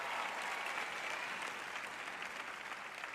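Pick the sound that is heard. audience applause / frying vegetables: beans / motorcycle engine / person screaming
audience applause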